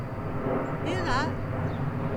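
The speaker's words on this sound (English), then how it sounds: "That could be my plane coming to land." A jet airplane passes overhead, its rising and falling whine sweeping through briefly against a steady background rumble.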